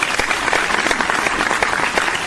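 A crowd claps steadily and loudly for football players Bo Nix and Marvin Mims, a dense wash of hand claps throughout.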